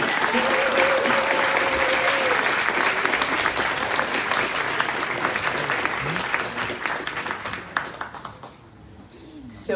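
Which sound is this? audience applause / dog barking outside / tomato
audience applause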